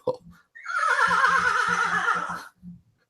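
A loud horse whinny, high and quavering, rises and trails off over about two seconds, with a few soft thuds around it.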